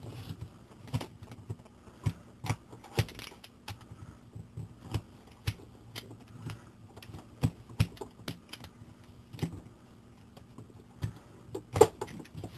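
A blade cuts down through a stack of book pages, making a run of faint, irregular dry clicks and snips close by in a quiet room, with no voices.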